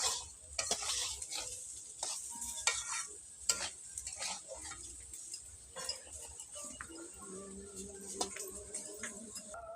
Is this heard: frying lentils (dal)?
yes